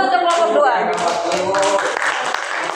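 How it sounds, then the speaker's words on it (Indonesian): Quick rhythmic clapping from a class of students applauding a group, close and lively in a classroom, with a voice speaking over part of it. "Tepuk tangan dulu untuk kelompok"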